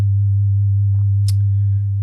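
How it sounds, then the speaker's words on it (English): A steady low sine tone built by frequency modulation in Max, held loud and unbroken throughout, with a brief faint high click partway through and no speech. "a tone, and it's actually being modulated 5 times a second"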